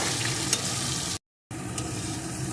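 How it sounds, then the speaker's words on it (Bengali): Potatoes with salt and turmeric frying in a pan, a dense, loud, even sizzle that cuts out briefly and then resumes just as strongly. "এখন এই আলুগুলোকে ভালো করে ভেজে নেব"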